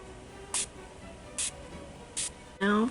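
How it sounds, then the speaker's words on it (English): Pixie Skin Treats Glow Mist setting spray is spritzed onto a face in three short, close hissing bursts, evenly spaced, before a voice starts talking. "And spray yourself in the face with it."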